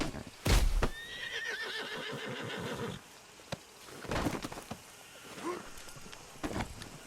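A horse in Red Dead Redemption 2 lets out a loud, close whinny near the start. Scattered hoof clops and movement sounds follow over a quiet background.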